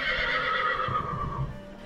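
A horse at a riding stable lets out a loud, close whinny that holds steady and then fades, with faint shuffling below it.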